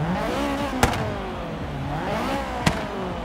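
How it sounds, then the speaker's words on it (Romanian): An Acura RSX Type-S in Forza Horizon 3, its stock engine revving toward 8700 rpm, rises and falls in pitch steadily with two sharp clicks, as of gear shifts. "Motorul se duce până în 8700 de rotații pe minut, stock."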